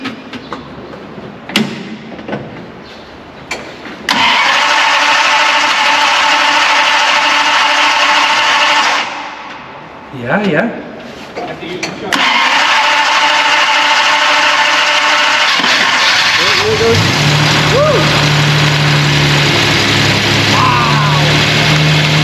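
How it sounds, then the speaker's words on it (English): A restored 1974 12-cylinder car engine cranks, fires and settles into a loud, steady roar, dips briefly, then surges again before easing to a lower idle, with some talk nearby. "start up this 12-cylinder"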